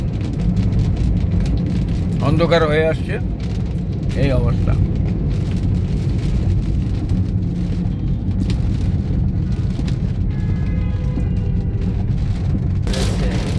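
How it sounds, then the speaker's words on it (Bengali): Rain pours steadily on a car travelling the Dhaka-Comilla road in the evening, a dense, continuous patter and road rumble inside the cabin, with people talking over it. "বৃষ্টি হচ্ছে, বৃষ্টি বেড়ে গেছে।"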